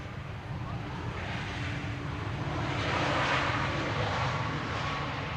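An airliner arrives at Amsterdam Schiphol from the north, its steady engine roar swelling gradually louder as it approaches and peaks near the end, with no one talking.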